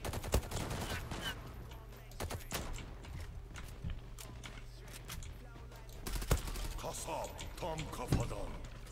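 Gunfire in the video game Zula crackles in rapid sharp bursts and scattered single shots over a steady low hum of game ambience, loud and close, with someone talking intermittently.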